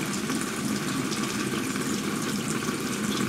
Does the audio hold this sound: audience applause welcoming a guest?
no